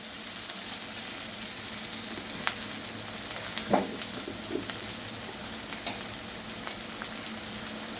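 Momo filling fries in a hot pan with a steady, close sizzle while a utensil stirs and scrapes, leaving a few sharp clinks and taps over the constant hiss.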